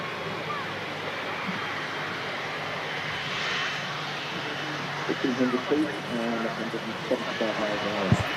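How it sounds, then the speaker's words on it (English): An Air Canada airliner rolls off the runway at Manchester Airport with a steady, broad jet engine roar close by. People talk over it toward the end. "Air Canada vacating in front of us there to get off the runway nice and quick."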